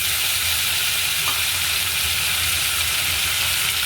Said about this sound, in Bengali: দিয়ে আমি তৈরি করে রাখা মশলাটা এর মধ্যে